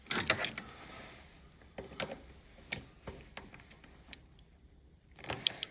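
A torque wrench tightens the lower foot peg bolts on a KTM 1290 motorcycle to 30 Nm. It gives a few faint, scattered ratcheting clicks close by, with sharper clicks at the start and end.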